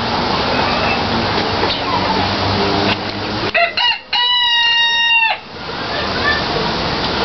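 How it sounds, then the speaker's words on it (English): A zoo rooster lets out one clear, drawn-out crow midway, standing out from a loud rushing background of water-like noise. "What does the rooster say?"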